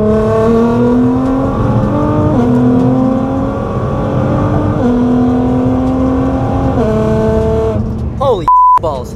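Lamborghini on a race track in Mexico accelerating hard through several gear shifts, each upshift dropping the engine pitch before it climbs again, loud and close, ending with a short beep.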